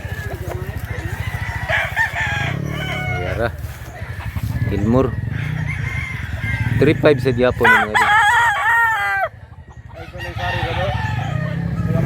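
Roosters offered for sale at a fighting-cock farm in Mantalungon, Cebu crow and cluck over steady background noise, with someone talking for much of the time.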